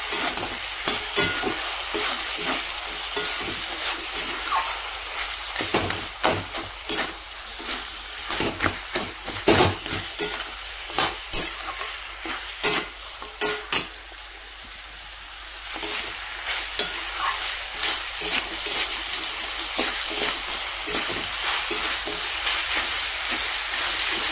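Fish-head chochchori with coriander leaves cooks in a pan, a continuous sizzle broken by many repeated scraping strokes as a spatula stirs it, close and fairly loud for over twenty seconds.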